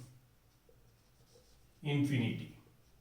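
Writing on a board in a classroom physics lesson: a brief, scratchy stroke lasting under a second stands out against a quiet, faintly humming room.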